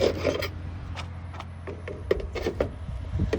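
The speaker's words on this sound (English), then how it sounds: "take a putty knife or something like that and just push back, and you can see how those separate" A putty knife pries back a clipped-in gutter screen, giving short, close scraping and rubbing strokes with a few sharp clicks, low and quiet over a steady background hum.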